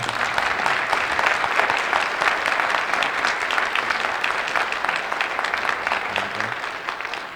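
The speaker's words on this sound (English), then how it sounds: "If you could give them all a round of applause." Parents and community members at a school safety meeting give a round of applause, a dense, even crowd clapping that holds steady throughout and fades slightly at the close.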